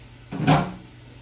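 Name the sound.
adding rinsed black beans to chili pot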